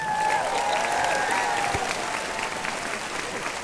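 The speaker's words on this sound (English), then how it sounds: "How about another round of applause for Brad Smith" Enthusiastic audience applause at the QuickBooks Connect 2015 conference for Brad Smith, a full, dense wash of clapping from a large crowd that stays strong throughout, with faint voices mixed in.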